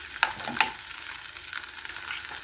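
Butter hits a hot pan beside browning pork and sizzles loudly in a steady, close hiss, with a couple of sharp utensil taps at the start.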